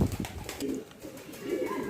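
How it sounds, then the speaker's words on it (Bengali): Pigeons on a pigeon farm coo in low, soft, repeated calls close by, with a little background rustle and no voices. "কবুতর আমার খামারে আছে।"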